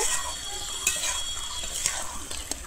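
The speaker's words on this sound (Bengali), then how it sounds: "ঘিটা দিয়ে আবারও আমি খুব ভালোভাবে মিশিয়ে নেব।" Raw jackfruit kofta curry gets stirred after ghee and chopped coriander are added, with a close, steady scraping of spoon on pan over a soft sizzle and a few sharp ticks.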